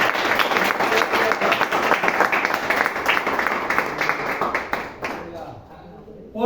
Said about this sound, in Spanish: Brinden un fuerte aplauso